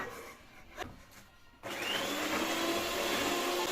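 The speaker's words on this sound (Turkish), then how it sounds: "Köpük olana kadar çırpın." An electric mixer whisks sugar into a mixture until foamy, starting with brief bursts and then running as a steady, loud, whining drone with no voices.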